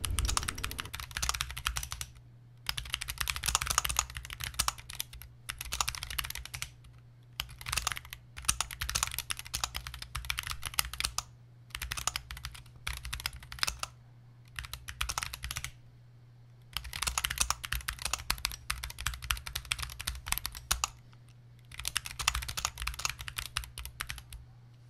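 Someone types text into a Markdown note editor on a computer keyboard, tapping quiet, close key clicks in irregular bursts separated by short pauses, with no voices.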